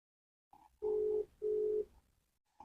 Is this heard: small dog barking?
no